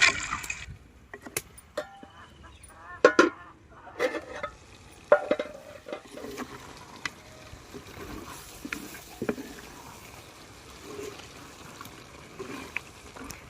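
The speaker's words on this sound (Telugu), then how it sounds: "మాంసాన్ని కలుపుకుని పది నిమిషాల పాటు మగ్గనిద్దాం" Guineafowl meat stirred with chilli powder in a village-style curry pan, a ladle scraping and clanking against the metal in irregular strokes over a faint sizzle, close and moderately loud.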